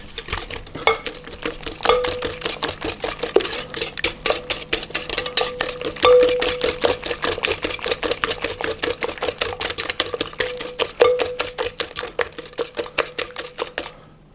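A utensil beats a salted flour mix in a bowl for panettone, rapid steady clicking and scraping strokes against the bowl, close and continuous, ending abruptly, with no talking.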